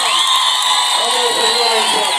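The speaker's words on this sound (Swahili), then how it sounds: "Mpigeni basi makofi ya kutosha" A crowd cheers, whoops and applauds for a ward councillor at the launch of a health centre in Tanzania, a loud, dense, steady roar with high whistles and shouts throughout.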